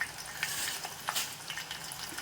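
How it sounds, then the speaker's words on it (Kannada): Curry leaves drop into a hot frying pan and sizzle, a close crackling hiss with a few sharp pops and light stirring scrapes over a couple of seconds, and nobody speaks. "ಕರ್ಬೇವಿನ ಸೊಪ್ಪು ಹಾಕ್ಕೊಳ್ಳೋಣ"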